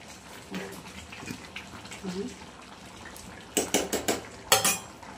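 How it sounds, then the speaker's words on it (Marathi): A metal spoon stirs sweet rice in a cooking pot, with soft scraping at first, then a quick run of sharp, close metallic clinks against the pot near the end. "एकदा हलवून घेऊ."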